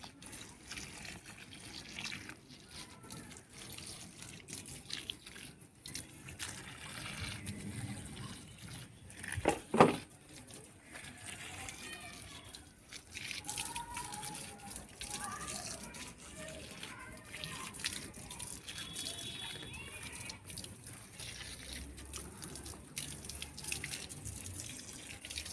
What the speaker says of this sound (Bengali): আমি তো গাছে এবার জল দিচ্ছি।